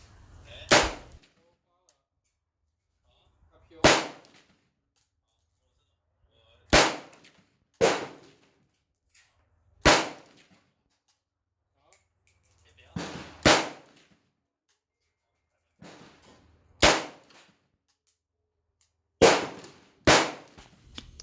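AK-pattern rifle (MD 65) fired with iron sights from a sandbag rest, about nine sharp, loud single shots spaced irregularly a second or more apart, each with a short echoing tail.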